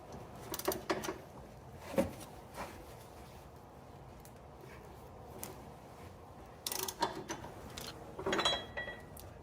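A wrench ratchets and clicks while breaking loose the water pump pulley bolts on a 2001-2007 Dodge Grand Caravan, giving faint, scattered metallic bursts with quiet gaps between them and no talking.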